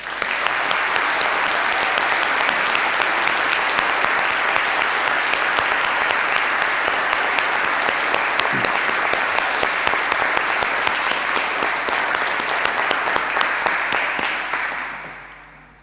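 A graduation awards ceremony audience breaks into loud, dense applause that holds steady for about fifteen seconds before fading at the end.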